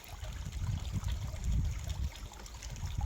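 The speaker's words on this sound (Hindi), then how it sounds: "अभी इसको फिर बंद करते हैं तो पानी अपने दूसरी तरफ जहाँ पानी चल रहा है बगीचे में उस तरफ पानी चल रहा है" Water flows steadily along a garden irrigation channel in Malir, Karachi, with a continuous close trickle over a low rumbling undertone and no voices.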